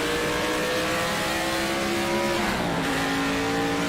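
A historic GT or touring racing car in the rFactor game revs hard at Sebring, its loud engine rising in pitch before dipping on a gear change and climbing again, alone and continuous.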